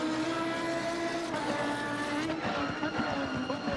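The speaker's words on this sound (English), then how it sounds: "But downshift sound is crazy of this car." A race car at the Red Bull Ring in a racing video game howls at high revs, then drops through quick downshifts with stepped pitch falls and crackling blips, loud and continuous.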